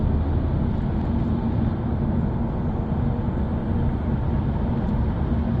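A car cruising on a highway at 75 gives a loud, steady roar of engine, tire and wind noise with no breaks, with no one speaking.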